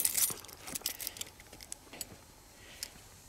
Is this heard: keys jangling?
yes